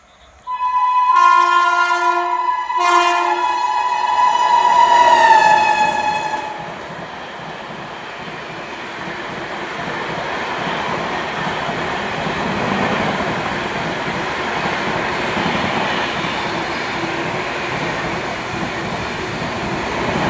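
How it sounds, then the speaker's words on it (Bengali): An express train of the Jalpaiguri–Sealdah service blows two short horn blasts and then one long one as it approaches near Kalyani. A sustained roar of wheels and carriages follows as it rushes past. "মাত্র স্পিডে কল্যাণী পথে বেরিয়ে গেল ট্রেনটা।"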